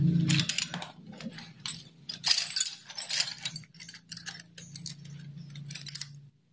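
Metal parts of a slow-spinning electric fan being tapped and knocked loose, bright clinking and rattling hits in quick clusters, close and fairly soft, with a low hum underneath.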